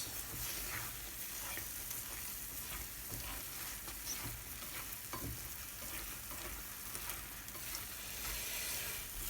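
Tofu frying in a pan gives off a steady, dense sizzle with occasional stirring scrapes, close and continuous throughout, with no voices.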